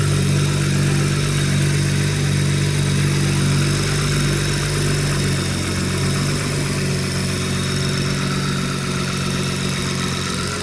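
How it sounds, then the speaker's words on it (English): A BMW 340i's engine idles steadily up close, a loud, even, continuous hum with a smooth low drone and no revving. "I'll leave it idle for about 10 to 15 minutes."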